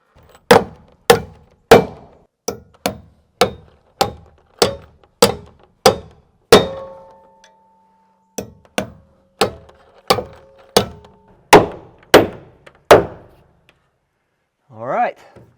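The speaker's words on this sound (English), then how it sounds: "These are 3-inch joist hanger nails, by the way. That way they go through both of those." Sharp hammer blows drive 3-inch joist hanger nails into a cabin's rim joist, about twenty crisp, ringing strikes in steady runs with one short pause, heard close up. A short rising squeak comes at the end.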